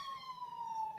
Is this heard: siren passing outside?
yes